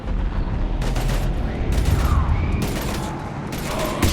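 Gunfire in the Mass Effect 3 prologue battle on Earth, dense rattling bursts over a heavy rumbling combat din, with louder volleys breaking through every second or so.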